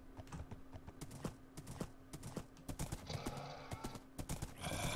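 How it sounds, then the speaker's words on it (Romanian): Skeleton horses in Minecraft give a busy run of clattering, hoof-like taps and clicks, fairly quiet and irregular, with a brief hiss and rustle near the end and no talking. "Hai să adun cai ăștia scheleți."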